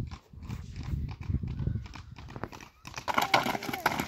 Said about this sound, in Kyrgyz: чаар ат чыгат.